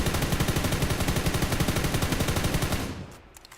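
Rapid automatic hip-fire gunfire from a weapon in PUBG New State sounds as a dense, fast, even string of loud shots that continues for about three seconds, then cuts off abruptly.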